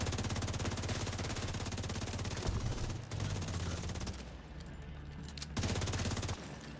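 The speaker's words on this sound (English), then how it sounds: "So I switch over to my assault rifle." Assault rifle fire in a shooter video game, rapid sustained automatic bursts with short pauses between strings of shots, loud and dense over a low rumbling backdrop.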